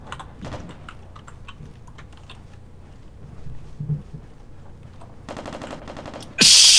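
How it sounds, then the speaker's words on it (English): Gunfire in the tactical shooter America's Army: Proving Grounds, heard as a quick burst of clicky shots near the end after scattered faint taps and background game noise, ending in a loud sustained blast. "Those guys shooting at me."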